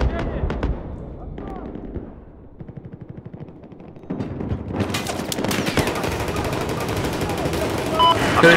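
Bursts of automatic gunfire from the shooter Battlefield 4, Operation Locker close-quarters map, crackling in rapid volleys that swell into a dense, continuous barrage in the second half, with players chatting over it.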